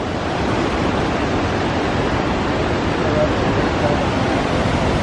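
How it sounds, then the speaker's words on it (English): Waterfalls flowing in Hawaii, a dense, steady broadband rush of falling water that holds constant throughout with no distinct events. "It's just a little bunch of waterfall after waterfall."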